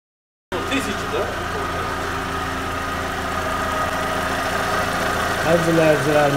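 A Skoda Octavia with the 1.6 BFQ petrol engine idles after an engine cleaning, a close, even mechanical hum with a faint ticking texture that swells slightly toward the end.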